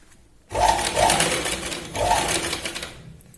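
Sewing machine running in two quick bursts of stitching while sewing broad piping onto a Katori blouse, close and fairly loud, with a short pause between runs.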